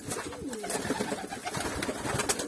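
Pigeons of a fancy breed, a purple-hued pair, coo softly in a loft at dusk, low repeated calls close by over a busy background with no talk.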